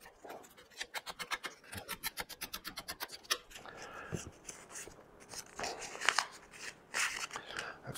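Hand sanding wood with 600 grit paper makes quick, close, rhythmic rasping strokes that start fast and regular and then turn into slower, uneven scrubbing, fairly quiet and without talk.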